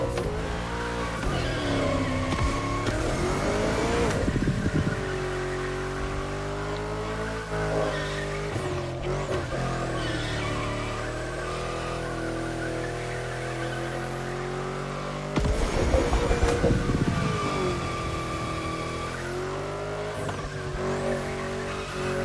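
Race car in The Crew Motorfest, driven hard through bends: loud engine rising and falling with revs, tyres squealing in long skids, and a sharp burst of louder revving near the end.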